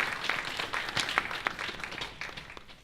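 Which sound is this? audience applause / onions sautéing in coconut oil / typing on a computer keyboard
audience applause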